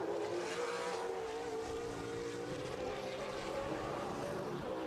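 Race cars at UARA National Tour qualifying at the Freedom Factory make a continuous engine roar with slowly shifting pitch, steady and moderately distant throughout, no clear voices.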